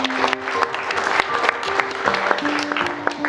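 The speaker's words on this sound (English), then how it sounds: "so big round of applause to them." Wedding guests applauding the bridesmaids and young girls in a dense, steady burst of clapping, with sustained tones of background music playing underneath throughout.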